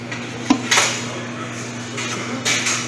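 A knife cutting a pastry crust for a Carnevale ricotta dessert, heard as a few sharp clinks and scrapes against a hard surface or pan, with quieter handling noise in between.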